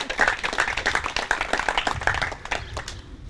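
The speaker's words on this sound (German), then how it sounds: "das ist ein riesen Applaus wert" Short burst of crowd clapping at a community event for a children's construction-site project in Buchs, with distinct hand claps over a steady background patter, moderately loud and ending after about three seconds.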